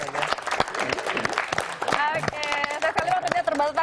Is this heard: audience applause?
yes